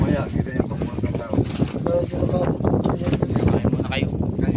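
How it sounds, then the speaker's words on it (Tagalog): Strong wind at sea buffets a fishing boat, a steady gusty rush with water and hull noise throughout, while people talk nearby. "Lumalakas na naman ang hangin."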